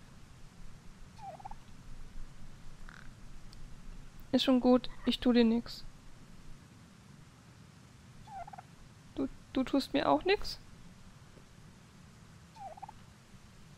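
In the video game The Pathless, an eagle being petted gives two bursts of shrill, warbling calls. They stand out against a quiet ambient backdrop, while someone speaks softly in German in between.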